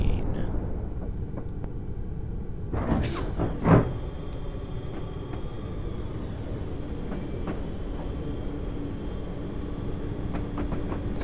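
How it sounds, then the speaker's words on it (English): A train in Train Simulator rumbles and rattles as it slows to a stop, with a brief hissing burst partway through, then a steady low drone as it sits idle. "Okay, and stop the train."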